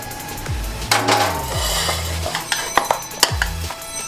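Rice-flour dough for akki roti being moved into another metal cooking pot, with several clanks and scrapes of utensils against the vessel, close and fairly loud, no talk.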